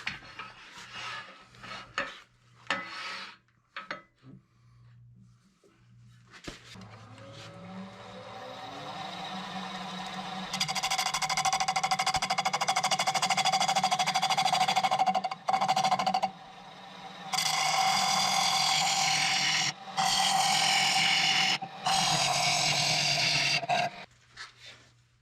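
A wood lathe hollows out a turned wooden bird feeder, starting with spinning-up hum and scattered scrapes before long, loud stretches of rasping tool-on-wood cutting broken by short pauses.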